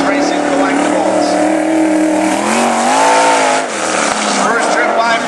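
A race car in national qualifying at Cottage Grove, an Eagle-chassis machine, roars by on the track, a loud engine drone that rises and falls in pitch, heard under a public-address announcer talking throughout.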